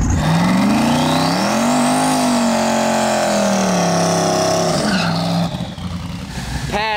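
A drag car with a 5-speed Lenco transmission roars through a full pass, loud and close, its engine pitch climbing and dropping through successive gear shifts before cutting off into quieter trailing noise.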